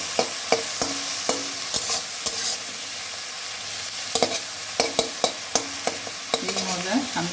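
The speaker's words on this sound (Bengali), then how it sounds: "এটা নেড়ে চেড়ে নিয়ে ভাজা করবো।" Dried fish paste with a little turmeric fries in a pan, a steady sizzle punctuated by sharp, repeated spatula scrapes and taps against the metal, close up, clustered in bursts with a quieter stretch in the middle.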